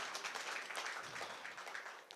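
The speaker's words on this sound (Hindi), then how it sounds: "जोरदार तालियां आपको बजानी चाहिए" Audience applause at a film trailer and music launch event, a steady broadband wash of many hands clapping throughout, moderately loud and continuous with no speech over it.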